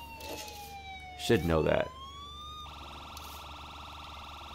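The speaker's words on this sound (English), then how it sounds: "Alright, here we go. Lights and sirens." An emergency vehicle siren in State of Decay 2 sweeps in a wailing tone over a steady game background, briefly crossed by a loud burst of talk, then shifts to a rapid, piercing yelp pattern that continues to the end.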